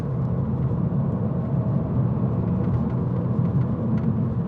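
A 2017 Abarth 595 hatchback with the 1.4 T-Jet turbo engine drives on a test run, giving a steady muffled engine drone and road rumble from inside the cabin, constant and moderate.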